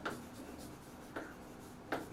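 Chalk or a marker draws a physics figure on a classroom board, giving three short, faint scratchy strokes spaced apart in an otherwise quiet room.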